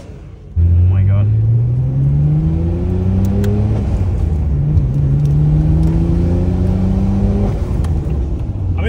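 A Nissan Skyline R34 engine revs hard while driving, loud and close, with repeated rising pulls of the revs over a constant rumble. Voices talk over it at times.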